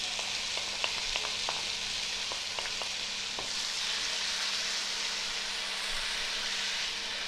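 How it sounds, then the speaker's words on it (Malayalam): Chopped tomatoes and onions sautéing in a pan for kadai chicken, a steady soft sizzle and hiss with a few light clicks of a spoon early on, continuous and fairly quiet. "അപ്പോൾ നമ്മുടെ തക്കാളിയും സബോളയും കൂടെ നല്ലതുപോലെ ഒന്ന് കുഴമ്പ് പരുവമാവുന്നിടം വരെ നമ്മളിത് സോട്ട് ചെയ്തെടുക്കണം"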